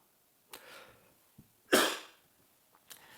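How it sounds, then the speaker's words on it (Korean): Dry coughs from a man whose rhinitis sends nasal drip down his throat: a small cough, then a sharper, louder cough, then a faint final hack, each standing alone in a quiet room. "자꾸 이 뒤에서 콧물이 이 뒤쪽으로 넘어가니까 기침이 계속 나와요"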